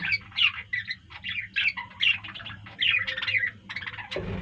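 A pet bird squawks and chirps repeatedly in short, shrill bursts, close and fairly loud, with a low hum underneath and a brief thump at the end.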